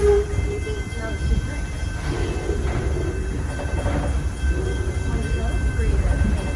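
Rumbling wheels and carriage noise from the slow-moving Torch Lake train, a steady rattling drone with faint rhythmic clacks and a high whine, heard from on board while a voice talks over it.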